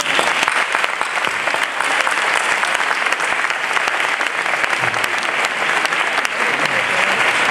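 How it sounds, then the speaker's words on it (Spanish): A large audience applauds at a presentation and farewell event in Seville, with dense, steady clapping that stays loud and continuous for the whole stretch, with no voices over it. "Vamos a dar un fuerte aplauso."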